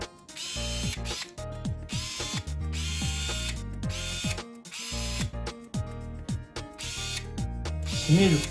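Electric screwdriver motor whirring in repeated bursts, several starts and stops with ratcheting, mechanical clicks between runs, close and fairly loud.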